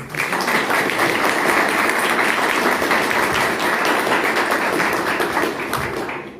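An audience at a panel session applauds with dense, steady clapping that lasts about six seconds before tapering off at the end.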